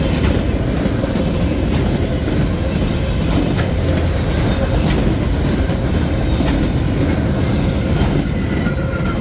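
A freight train with mixed rolling stock rolls steadily past at close range, producing a continuous loud rumble and clatter of wheels with occasional faint squeals throughout.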